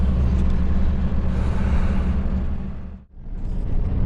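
Interior of a car driving on a road during an evacuation trip: steady low engine and road rumble with tyre noise, a brief dip near the end as the car shifts or eases off, then the drone resumes.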